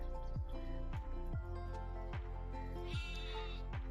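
A goat bleats in repeated short, wavering cries, nearby and fairly clear, with quiet dripping sounds between them.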